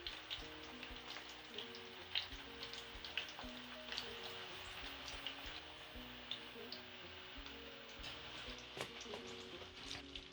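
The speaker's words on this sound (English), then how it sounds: "I will leave them for 3 minutes to finish frying" Potato fries sizzle and crackle steadily in hot oil, a constant close frying hiss with scattered pops and a faint background hum.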